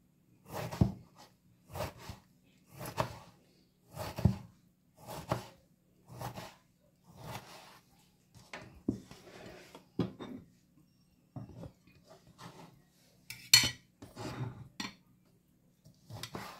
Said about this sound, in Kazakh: Помидорларымызды да соған ұқсас етіп турап аламыз.